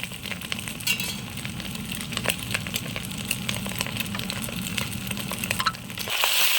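Boiled macaroni stir-fried with egg and chili in a pan, a continuous sizzle with frequent scraping stirs from a utensil, growing louder at the end.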